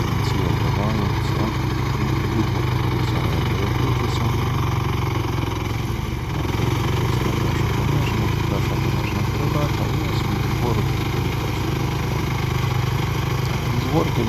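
A minitractor engine pulls a 2×25 plough in second low gear, giving a steady, loud, continuous mid-pitched engine drone throughout, with no clear pauses.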